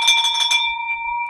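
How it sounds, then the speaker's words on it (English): A single bell rung in celebration of closed real estate deals strikes once, bright and ringing, with a clear tone that decays over about a second. "we should ring the bell for these 6 deals"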